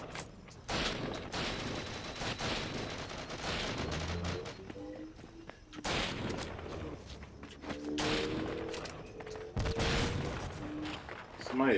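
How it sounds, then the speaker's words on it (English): Gunfire in an online GoldenEye 007 match on the Wii comes in loud bursts of rapid shots and single cracks that keep returning, with someone talking over much of it. "Somebody is shooting over here"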